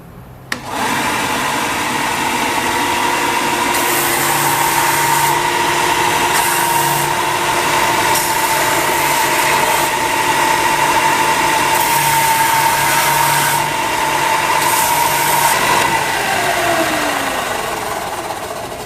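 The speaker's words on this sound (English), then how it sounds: "Once we've got the edges basically rounded with the belt sander" A belt sander rounding the edges of wood and leather pistol grips runs as a loud, steady motor whine with a humming drone. The pitch shifts slightly as the work is pressed against the belt, then it begins to wind down at the end.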